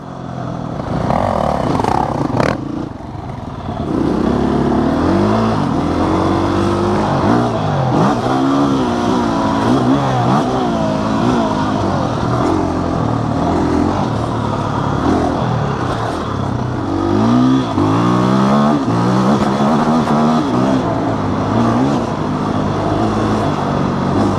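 Husqvarna FE350 four-stroke dirt bike ridden on a wide-open trail, its engine loud and close throughout, rising and falling in pitch as the rider shifts through revs, with no talking.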